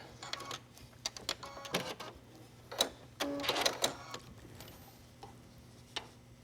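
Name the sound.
sewing machine zigzag stitching elastic onto garment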